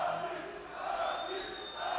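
A crowd at a UFC 229 pre-fight press conference for McGregor vs. Khabib jeers with a sustained, roaring wash of voices, moderately distant and steady for the whole moment.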